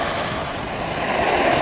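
Waves wash steadily at the water's edge, a continuous close rush of surf mixed with wind noise across the microphone.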